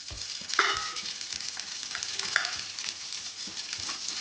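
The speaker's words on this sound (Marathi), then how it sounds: "गॅस वाढवूया आणि याच्यामध्ये सोलून घेतलेले मटार टाकायचे" Shelled green peas sizzle in a hot pan, a soft continuous frying hiss with a few faint stirring taps, quiet and close.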